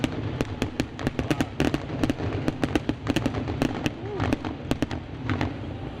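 Fireworks bursting over Charlotte Motor Speedway at a NASCAR All-Star race, a rapid irregular string of sharp distant cracks and pops scattered across several seconds, fairly faint and heard from afar.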